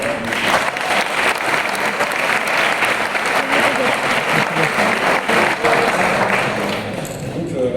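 Loud, sustained applause from a sizeable crowd at a graduation ceremony, dense clapping that holds steady and begins to fade near the end.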